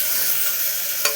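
Coriander and garlic hit a hot pan with a steady, close sizzle and a brief clink of stirring near the end.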